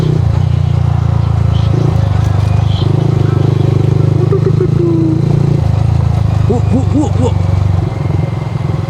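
A motorcycle engine drones loud and close throughout a ride, with pitch shifting as the rider changes speed, along with some clatter and wind noise, and a voice briefly heard over the engine.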